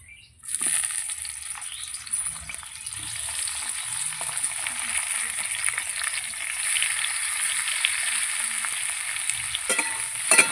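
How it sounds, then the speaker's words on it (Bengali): Eggplant frying in hot oil for a Bengali dudh shukto, a steady bright sizzle that starts abruptly and holds loud and close, with occasional small crackles and no talking. "আমি আবার তেল দিয়ে দেবো ভেজে নেবো বেগুনটা"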